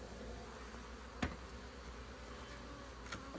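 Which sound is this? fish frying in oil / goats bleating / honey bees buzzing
honey bees buzzing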